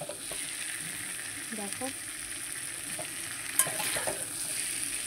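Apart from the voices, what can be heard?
pouring water into sizzling pan while cooking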